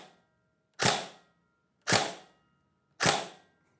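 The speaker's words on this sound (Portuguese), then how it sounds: "Primeiro, disparos no semiautomático." A Tokyo Marui HK416D Devgru airsoft rifle fires on semi-automatic into a chronograph. Three sharp, close pops ring out at evenly spaced intervals about a second apart, each decaying quickly into silence.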